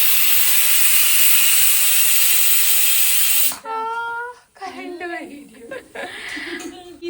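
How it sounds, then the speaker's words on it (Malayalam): A pressure cooker whistle lets off a long, loud hiss of steam in a home kitchen where coconut milk is being prepared; the hiss cuts off partway through and a voice then talks over quieter background noise. "കുക്കറിലെ വിസിലും വന്നിട്ടുണ്ട്."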